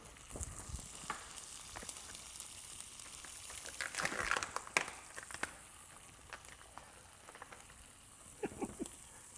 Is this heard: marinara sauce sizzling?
yes